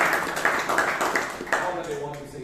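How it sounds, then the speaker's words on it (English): A Toastmasters meeting audience in Bangalore claps in a round of applause, with a few distinct claps standing out over a short burst of indoor clapping that fades as it goes. "So I think Rashi and the speaker deserves a round of applause."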